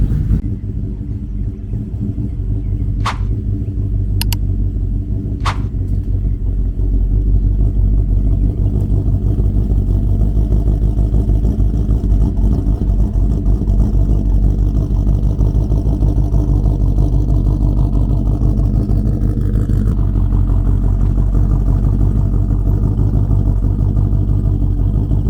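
A Chevrolet Silverado truck engine rumbles steadily at close range while the truck backs up, a deep continuous drone with a few sharp clicks near the start and a slight shift in tone later on; nobody speaks.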